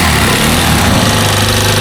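A Rusi Chariot 175 motorcycle engine idles steadily and loudly up close after a piston ring replacement, producing a constant, even mechanical drone with no speech.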